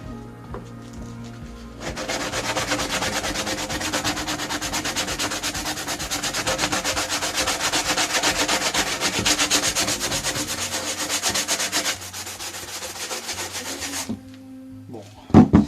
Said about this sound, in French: mais bon, j'ai pas tout rattrapé, donc coup de ponçage